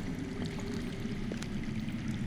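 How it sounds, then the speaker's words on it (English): Underground running water in a Game of Thrones video game scene comes through as a steady, muffled rushing wash with a low rumble, constant and even, with no voices over it. "I hear water. From underground."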